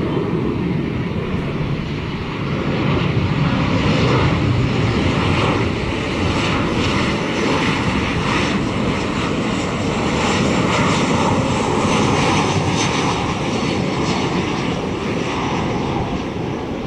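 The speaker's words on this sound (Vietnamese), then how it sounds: "mời mọi người chiêm ngưỡng phá hạ cánh của chiếc máy bay này" Bamboo Airways Boeing 737-900 landing at Tan Son Nhat airport under overcast, lightly rainy skies: a loud, continuous jet engine roar with a steady whine, holding strong for the whole stretch, no talk.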